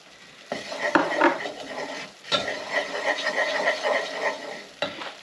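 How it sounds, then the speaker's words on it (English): A flour roux for fish pie cooks in a pan, giving a soft steady sizzle broken by repeated scraping and stirring strokes and a few clinks of utensil against metal, close and alone. "I'm just going to let that cook out just for about a minute, just to cook off the raw flour taste on it"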